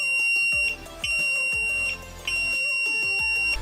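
A 3D-printed airsoft sound mine's buzzer shrills loudly and continuously in pulsing bursts of piercing electronic tone, with faint clicks between the pulses.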